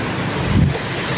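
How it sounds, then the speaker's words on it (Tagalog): Ocean waves wash in at a beach, a short rushing surge heavy with wind noise on the microphone. "Ayan na yung alon."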